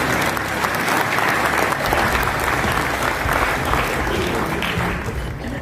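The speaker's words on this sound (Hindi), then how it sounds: "ताली तो बजाओ" A hall audience at a college diamond jubilee event in Rewa claps loudly and steadily for several seconds. The dense applause fades slightly near the end.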